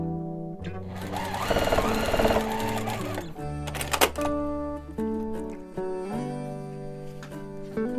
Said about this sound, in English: So let's sew these together.